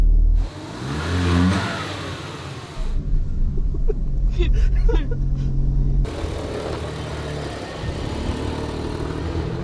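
A freshly rebuilt rotary-engine car revs through several rising and falling pulls while warming up, loud and close, with people talking over and between the engine bursts.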